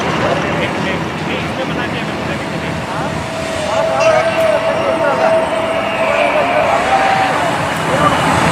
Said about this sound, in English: The helicopters will cross head-on and perform synchronized stall turn.